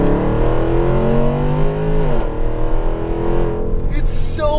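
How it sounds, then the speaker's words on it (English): Range Rover SUV with a ZF transmission accelerating hard from inside the cabin, the loud engine note climbing through the revs, dropping at a gearshift and pulling again, with a faint voice near the end. "incredibly quick for a big SUV"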